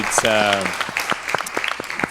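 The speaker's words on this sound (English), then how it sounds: "So please give a round of applause to that." Applause for the organizers of a climate justice dialogue program, brief and fading under a voice at the start, then scattered claps trailing off.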